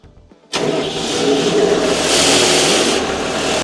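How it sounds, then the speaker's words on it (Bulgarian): A Frost Boss anti-frost fan engine starts up in an orchard: a short crank, then the motor catches and settles into a loud, steady running roar that continues without a break. "Ако малко стихне, също не пречи да я запалим."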